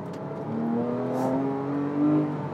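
Porsche 997.1 GT3 flat-six engine revving hard while cornering, a rising, sustained metallic howl heard close up from inside the car, steady and loud for a couple of seconds.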